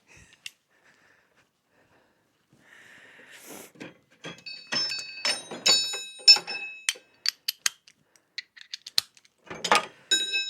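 A socket wrench with an extension turns bolts on a CFMOTO 450MT motorcycle; after a quiet start, close bursts of rapid ratcheting clicks come in uneven runs.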